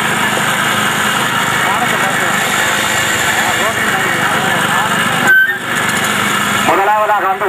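A racing motorcycle engine drones loudly and steadily during a bike race, with a short horn toot and a voice breaking in near the end.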